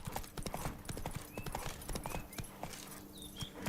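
Roach the horse galloping in The Witcher 3, rapid clip-clopping hoofbeats in a steady rhythm, close and clear, with a faint whinny.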